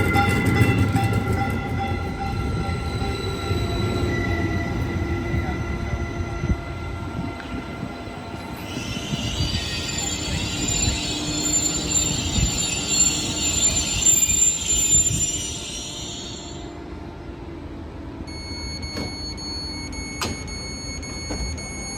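A passenger train rumbles steadily nearby with rail noise through Menlo Park Caltrain station, then a bright metallic squeal or hiss rises for several seconds before easing off as the rumble continues.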